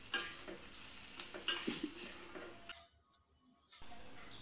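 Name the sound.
onion and tomato sautéing in oil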